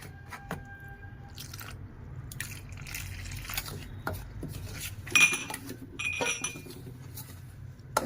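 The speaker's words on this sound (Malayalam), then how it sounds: "ഇത് നമുക്ക് കലക്കിയെടുക്കാം." A spoon clinks and scrapes against a bowl while a snack mixture with crushed chilli is stirred, irregular close metallic taps and light rattles continuing for several seconds.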